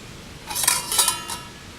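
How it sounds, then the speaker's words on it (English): A metal lid settles back onto a pot of boiling rice over a campfire, giving a few bright clinks and rattles in quick succession, close and alone. "Pop that lid back on."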